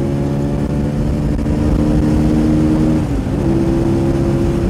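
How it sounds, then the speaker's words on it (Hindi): A Benelli TNT 25 motorcycle engine running on Euro 5 petrol runs steadily up close, its pitch rising slightly near the end as it revs, with no talking. "ये यूरो फाइव मतलब बाइक का जो है ना वो साउंड चेंज हो गया,"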